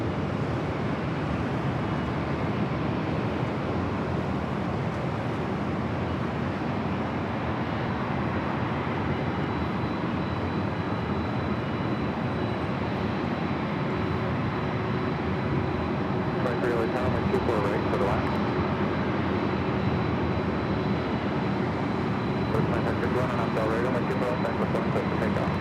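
Delta Boeing 777-300ER airliner taxiing into the departure line at LAX for Atlanta, a constant deep jet engine rumble and whine filling the scene, with a voice talking over it.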